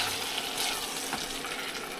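Onions and carrots frying in a pan with browned beef for stew, a steady loud close sizzle with faint stirring and no talk.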